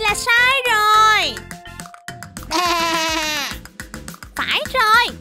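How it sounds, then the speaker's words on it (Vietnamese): A fluffy sheep bleating in a children's animal-sounds cartoon, two or three loud, wavering bleats close up, each drawn out, with cartoon sound effects in between. "đây là tiếng kêu của bạn cừu bông mà"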